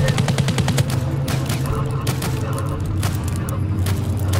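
Repeated pistol shots in a video game ring out in a rapid, steady series of sharp reports over a continuous rumbling background, with game noise mixed in.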